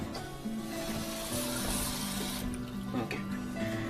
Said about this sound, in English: I'm adding a little bit of cold water to the soap and water mixture, just so it's not really hot